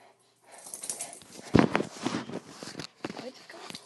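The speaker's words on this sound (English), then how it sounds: "that's some dogs" Dogs whimper and snort close by amid shuffling and pawing, the sounds coming in short irregular bursts mixed with human talk.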